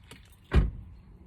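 A car door shuts as people climb out of a parked car: a single dull thud, fairly close, between stretches of low background hum.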